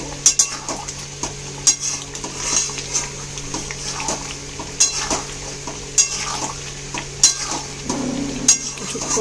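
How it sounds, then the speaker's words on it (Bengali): Chicken is sautéed and stirred in a pan, giving a low frying sizzle punctuated by sharp, regularly spaced scrapes and clanks of a spatula against the metal. "ভালো করে কষিয়ে চিকেন মোটামুটি অনেকটাই হয়ে যায় কষাতে কষাতেই।"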